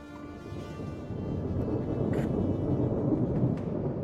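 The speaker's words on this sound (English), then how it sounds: "Loud thunder." Loud rolling thunder from a storm in the city-building video game Anno, a dense low rumble that swells after the first second and holds steady with no talk over it.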